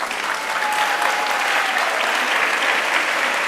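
An audience at a stage hypnosis show breaks into loud, sustained applause. The dense clapping runs steadily and evenly for the whole stretch with no talk over it.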